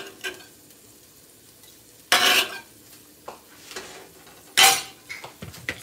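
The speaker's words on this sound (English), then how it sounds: "simmer down a little, and I'm gonna get my broccoli soft" Shrimp and broccoli stir fry cooks in oil in a pan, a quiet sizzle underneath with two loud metallic scrapes and clanks of a utensil against the pan, plus smaller knocks between them.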